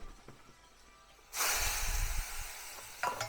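Hot oil tempering of fried mustard seeds poured into boiling tamarind pickle, bursting into a loud, steady sizzling hiss after a quiet start, then fading slightly with a faint clink near the end.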